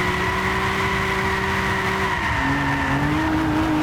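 A Nissan Skyline 370GT with a VQ37 engine, built for drifting in Gran Turismo 6, slides through a corner at GT Arena. Its engine drones steadily and its tires squeal without a break, the pitch dipping slightly near the end.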